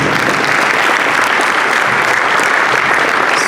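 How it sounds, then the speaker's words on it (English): A room full of people at a Caribbean tourism event applauds Latin American media with loud, dense, continuous clapping from start to finish. "Give them a round of applause."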